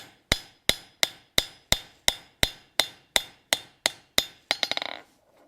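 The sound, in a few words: hammering cold copper to forge a spatula edge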